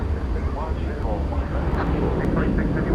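A United airliner taxis into position at DFW airport at night, a steady, moderately loud engine drone running under continuous talk.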